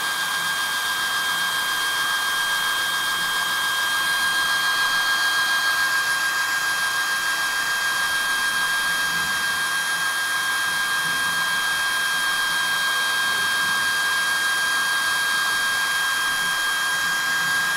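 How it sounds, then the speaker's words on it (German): A hair dryer blows steadily to dry paint during a painting stream, a constant close, loud whooshing hum that runs unbroken throughout with no talk over it. "Damit es schneller geht, föhne ich jetzt einfach mal alles leicht durch."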